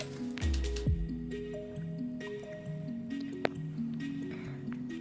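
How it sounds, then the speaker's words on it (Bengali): Chhena whey is squeezed out of a muslin cloth, with a wet squish followed by trickling and dripping liquid, close and fairly quiet, with a few small clinks. "খুব সুন্দরভাবে চেপে চেপে ছানার জলটাকে বাদ দিয়ে দিতে হবে"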